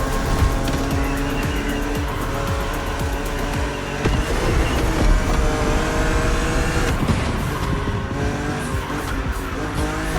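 A BMW Z roadster races against an opponent in The Crew Motorfest, its engine roaring steadily and loud throughout, with tires squealing and skidding through corners and the revs rising and falling between gear changes.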